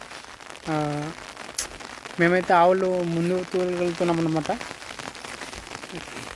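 Light rain falls outdoors during sunshine while cattle are being herded, a soft steady patter of small drops sitting beneath someone talking nearby.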